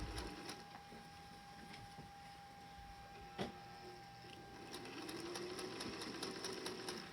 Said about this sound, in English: I'm just going to stitch down, staying 1/8 of an inch away from that edge.